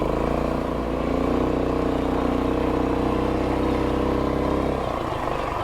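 A Rokon Trail-Breaker 2WD motorcycle engine while riding, a loud, steady mechanical drone and whir that holds for several seconds and then drops away near the end.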